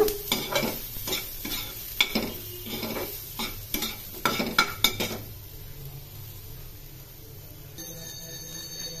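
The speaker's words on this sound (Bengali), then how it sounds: "আরো 1 চামচ সরষের তেল, রান্নার তেল দিয়ে দিলাম। বেগুনগুলো একটু ভালো করে ভেজে নেব।" Eggplant pieces fry in mustard oil, with a spoon repeatedly scraping and clinking against the pan in uneven bursts over a continuous sizzle, the stirring stopping toward the end and leaving the frying to carry on alone.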